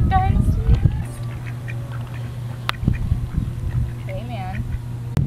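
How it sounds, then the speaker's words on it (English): Ducks quacking out in their natural habitat, a series of nasal honking calls near the start and again toward the end, with someone speaking loudly over them and a low steady hum underneath. "shut up with that damn quacking"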